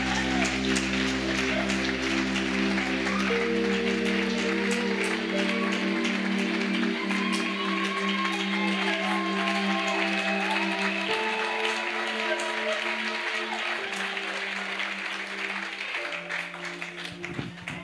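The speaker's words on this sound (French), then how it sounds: "Clap, let's clap for Jesus." An audience at an evangelical salvation and healing crusade in Bafoussam claps together, a steady wash of applause running under amplified music and a voice before thinning near the end.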